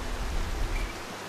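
Steady, soft rain ambience from the chill game NightSky, a continuous even hiss with a low rumble, no talk.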